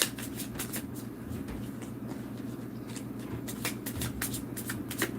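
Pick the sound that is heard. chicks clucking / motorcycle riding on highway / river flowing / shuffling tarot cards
shuffling tarot cards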